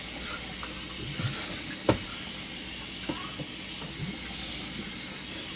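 Tap water runs steadily while a plucked turkey is rinsed in a kitchen sink, a soft continuous hiss with occasional small splashes and clunks as the bird is handled.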